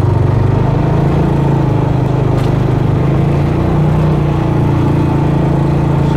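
A brand-new Massimo Buck 450X gas golf cart UTV with EFI idles and runs steadily close by, a constant low engine drone with a faint rise in pitch midway and no talk over it.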